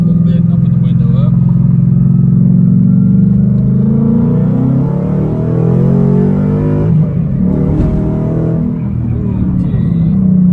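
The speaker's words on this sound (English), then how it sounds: "we'll just kind of roll on the throttle here, second gear roll a little bit" A 2011 Mustang GT Premium with a six-speed manual rolls onto the throttle in second gear, its deep engine rumble building steadily and loudly under a man's speech.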